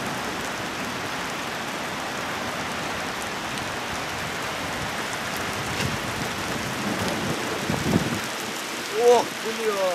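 A thunderstorm over Kimovsk in July 2012: heavy rain hisses steadily throughout, then a deep thunder rumble builds near the end, with faint voices nearby.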